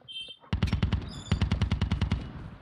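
Automatic gunfire in the mobile shooter game Call of Duty Mobile rattles off in two rapid bursts of evenly spaced shots, loud and close, with game effect chimes around them.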